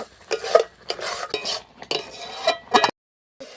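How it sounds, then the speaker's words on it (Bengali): A spoon stirs a raw mango candy mixture in a pot without stopping, making repeated scraping and knocking strokes against the metal. A brief silent gap breaks the stirring near the end. "এরপর কিন্তু অনবরত এইভাবে নাড়তে হবে একদম কিন্তু নাড়া বন্ধ করা যাবে না"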